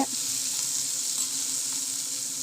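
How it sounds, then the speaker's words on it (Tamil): Chopped onions sautéing in a pan for a Tamil-style black-eyed pea kadaiyal, giving a steady close hiss and sizzle that runs evenly throughout with no talk. "இப்போ வந்து வெங்காயம் போட்டுக்கிறேன். நல்லா வணக்கி விட்டுக்கோங்க."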